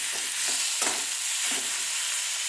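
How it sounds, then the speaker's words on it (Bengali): Small fish seasoned with salt, turmeric and chilli powder fry slowly in a pan, giving a steady hiss with a few soft stirring scrapes, fairly close and with no talking. "একটু মন্দা আছে, ধীরে ধীরে এটা ভাজবো।"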